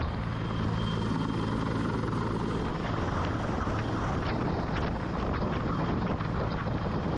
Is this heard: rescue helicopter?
yes